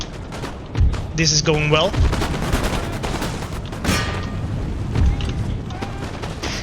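Musket volleys pop and crack across an Empire Total War battlefield, with several sharp shots and a rolling burst of fire, fairly close, while someone talks over the fighting.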